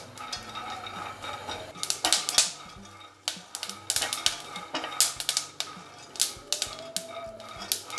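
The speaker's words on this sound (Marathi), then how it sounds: "कंटिन्यू परतत राहिल्यामुळं काय होतं ते सगळ्या बाजूने असे व्यवस्थित भाजून निघतात" Dry peanuts stirred and tossed in a pan on a gas stove while roasting for Solapuri peanut chutney, giving close, rapid rattling clicks in irregular bursts with brief lulls between strokes.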